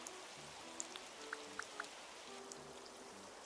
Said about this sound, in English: I might make it rainy though